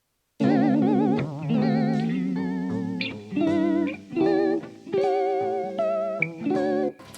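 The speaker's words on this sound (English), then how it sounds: "Another thing that can happen is flutter, which sounds like this." Mellow lo-fi guitar chords pass through the RC20 flutter effect, so the sustained notes quiver rapidly in pitch. Several strummed phrases sound in a steady, close, full-volume run.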